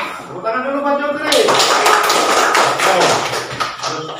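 Children in a scouting class clap together in quick, steady rhythm, fairly close, with voices audible around the applause.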